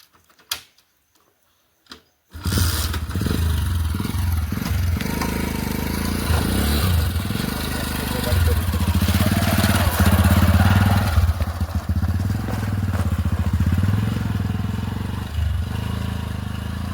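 A motorbike engine labours steadily up a rough, bumpy forest track, loud and close with continuous revving and clattering from about two seconds in, after a brief near-silent start.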